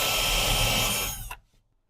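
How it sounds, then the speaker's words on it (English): A power drill drives screws into a cargo trailer during a camper conversion. One close, loud whirring run of about a second and a half spins down and stops sharply, with no talk. "I think I might put 2 more screws in back here."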